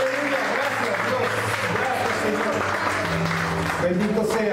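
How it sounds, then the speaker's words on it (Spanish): Applause from a church congregation fills the room at constant loudness, the clapping blended with cheering and voices speaking over it. "Regálenle una ofrenda de palmas."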